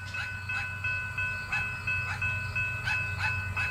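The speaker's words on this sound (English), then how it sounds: "Eastbound priority train to Montour, Iowa" An eastbound Union Pacific priority freight train rolls past at Montour, Iowa, with a loud steady rumble, rhythmic wheel clatter over rail joints and a sustained horn tone running throughout.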